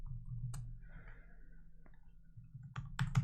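Someone types code on a computer keyboard, a few soft, scattered key clicks, then a quicker cluster of taps near the end against quiet room hum.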